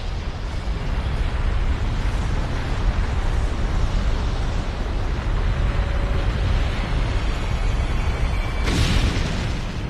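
A massive volcanic eruption roars as a deep, continuous rumbling blast, loud and unbroken, with a sharper burst flaring up near the end.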